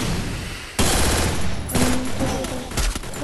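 Rapid gunfire bursts from a shooting video game, loud and dense, with a sharp onset and repeated automatic volleys layered over busy game effects.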